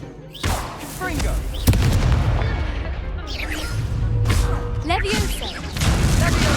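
A Confringo blasting spell explodes in Hogwarts Legacy with a sharp booming crack, followed by rumbling and crackling debris under steady game ambience.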